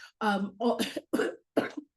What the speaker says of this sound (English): I'm gonna mute really, really fast because I need to cough